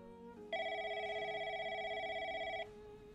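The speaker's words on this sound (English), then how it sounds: "when her phone rings" A telephone rings with one steady electronic tone lasting about two seconds, fairly faint, with quiet background sound before and after it.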